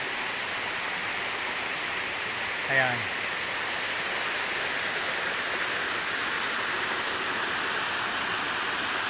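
A forest waterfall pours in a constant, dense rushing roar from start to end, while a single short spoken word briefly rises over it partway through.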